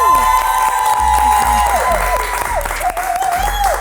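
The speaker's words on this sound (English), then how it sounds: "I want y'all to help me give a round of applause" Audience applause with some cheering, given as a round of applause for a production company during an interview show, heard loud and continuous beneath a sustained tonal music-like layer.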